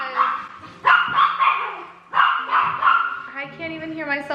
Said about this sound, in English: I don't know how much of this barking I'm gonna leave in the video